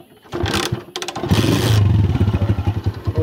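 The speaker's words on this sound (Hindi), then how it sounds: "और जी अपना मोटर स्टार्ट हो गया है" A motorbike engine cranks with a clattering start, catches and settles into a loud, close, throbbing idle, with no voices.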